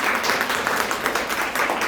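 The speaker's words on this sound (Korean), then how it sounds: "박수로 하나님께 영광을 드립니다." A church congregation at a Korean church in Mexico applauds together, a brief, dense and steady burst of clapping filling the room.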